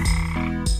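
A frog croaks in a brief, close, loud call, a rough buzzing croak repeated in quick pulses with no other sound around it.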